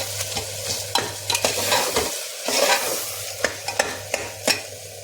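Mutton keema being stirred in a pan with turmeric and coriander powder, a spoon scraping and knocking in an irregular rhythm over a soft sizzle of frying, close and clear with no voices.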